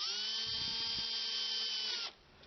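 A high-pitched power drill fitted with a hole saw whines steadily at close range for about two seconds, then spins down and stops.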